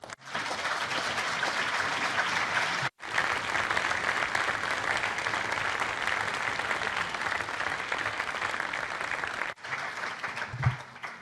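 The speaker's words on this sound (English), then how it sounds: "Thank you for all the applause." Sustained applause from the audience in a European Parliament environment committee meeting room, dense and even, breaking off briefly twice before resuming, with a faint thump near the end.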